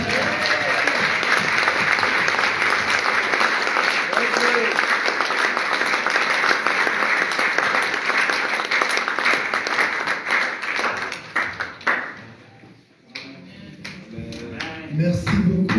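A church congregation applauds loudly and steadily for about eleven seconds, the dense clapping then thinning and breaking off before voices and scattered claps return near the end.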